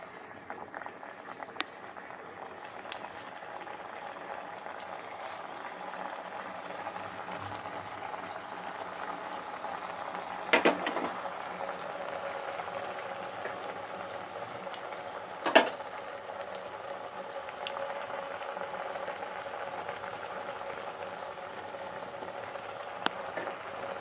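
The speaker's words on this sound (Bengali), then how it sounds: "এবারে এগুলো একে একে ভেজে নেব।" Okra fritters deep frying in hot white oil, a steady bubbling sizzle that fills the whole stretch at moderate level, broken by a couple of brief sharp pops or clatters, with no talking.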